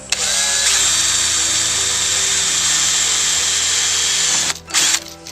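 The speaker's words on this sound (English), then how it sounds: "we're just going to drill these out" A power drill whines loudly and steadily up close as it bores holes into plastic for fitting front mudflaps on a Land Rover Freelander 2, then winds down with a few short stuttering bursts at the end.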